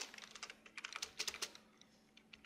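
Quiet computer keyboard typing while writing PHP code, a quick irregular run of soft clicks that thins out toward the end, with no voices.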